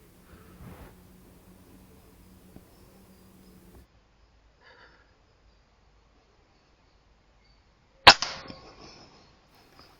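A single sharp shot from a Weihrauch HW100KT air rifle in .22, firing 16-grain Diabolo field pellets outdoors. It cracks once, close and loud, with a brief ringing tail, after quiet stretches of faint rustling.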